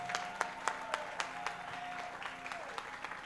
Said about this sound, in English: Clap for the latest couple in town.